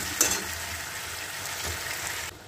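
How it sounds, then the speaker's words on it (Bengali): Boyal fish frying with a spice paste in a pan, a steady broadband sizzle held throughout with a brief stir near the start, close and moderately loud, no voices. "8 মিনিট মতো মাছটা এই মশলার সাথে কষিয়ে দিতে হবে।"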